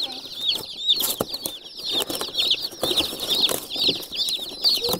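Baby meat chicks peep constantly at close range, a dense chorus of high chirps with a few soft rustles and bumps underneath.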